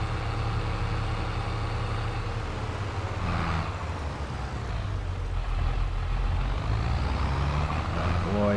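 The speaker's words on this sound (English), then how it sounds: "This tractor is struggling with that" A tractor engine labouring under load in the video game Farming Simulator 22, a steady, loud, droning rumble with shifting pitch, continuous throughout.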